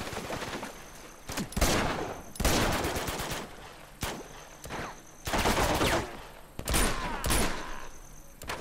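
Bursts of rapid gunfire in the video game Uncharted 2: Among Thieves, several volleys of automatic shots separated by short pauses, loud and close with no talking.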